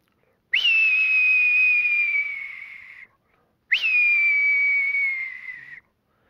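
A person whistles an imitation of a red-tailed hawk's scream: two long, piercing, slightly descending whistled cries, each lasting about two and a half seconds, separated by a short silence, close and clear with no other sound.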